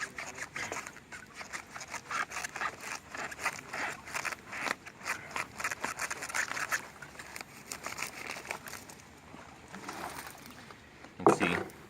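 Scissors or shears snip and crunch through the woody, spongy rhizome tissue of a Nymphaea 'Woods Blue Goddess' water lily, with repeated close cuts, crackling and rustling, and a sharper snap near the end.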